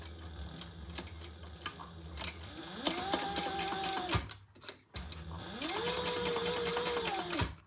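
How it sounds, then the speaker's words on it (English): A sewing machine runs in two bursts, top stitching down the long edges of a key fob wallet, its needle hammering rapidly with a steady motor whine, close and alone. "we're going to top stitch down both long edges"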